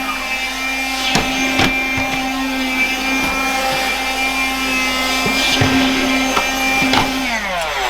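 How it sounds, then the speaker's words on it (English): A Karcher window vacuum runs steadily with a constant motor hum and whine, cleaning the inside of a top-hung Velux window, with faint intermittent clicks and scrapes over the drone. "I have a vacuum, window vacuum at Karcher"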